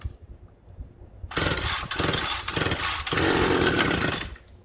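A two-stroke engine held at full choke is pull-started, with a couple of loud, raspy cord-pull bursts that sputter without catching, heard close up and alone.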